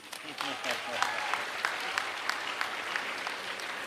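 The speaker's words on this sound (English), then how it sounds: "No, that is clapping." Audience applause at a military history session, steady dense clapping from a seated crowd that holds for the whole stretch, moderately loud and close, with a few sharper individual claps standing out.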